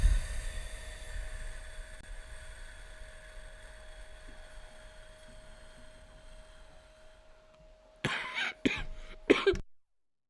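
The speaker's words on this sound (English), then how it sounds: "Every time I get down to that last breath, I'm coughing" After a long quiet stretch with a faint steady tone during a breathing exercise, a few sharp coughs burst out close by in quick succession near the end.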